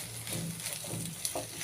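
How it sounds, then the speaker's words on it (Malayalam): Butter pasta tossed with chilli sauce in a pan, a short burst of soft scraping stirs and light sizzling, close and fairly quiet, with no voices. "ചില്ലി സോസ് ഞാനിട്ട് മാറ്റി വെച്ചിരുന്നില്ലേ, അതും കൂടി ഇടാം. ಚೆನ್ನಾಗಿ ಮಿಕ್ಸ್ ಮಾಡಿ നല്ലപോലെ ഇളക്കാം കേട്ടോ."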